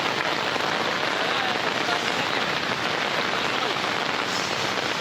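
Steady heavy rain pours down, a dense constant hiss of drops drumming on a surface with no pauses.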